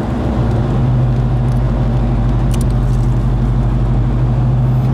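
A 1969 Chevelle convertible muscle car rolls along with its V8 engine rumbling steadily, a loud, close low-frequency drone holding constant throughout without any voices.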